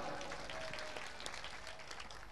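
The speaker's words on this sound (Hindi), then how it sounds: "ज़ोरदार तालियां" Applause at a stage event honouring a guest, a steady, quiet rush of many people clapping together, heard from a distance with a faint tonal sound running underneath.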